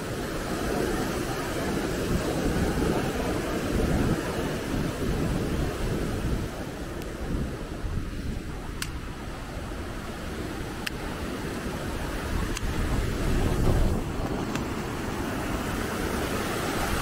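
A rushing mountain river on the Annapurna trek roars in a dense, steady wash of water noise, loud and close throughout, with faint wind buffeting.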